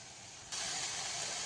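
Chopped banana flower sautéing in a hot pan: a steady bright hiss and sizzle that jumps suddenly louder partway through, close and alone.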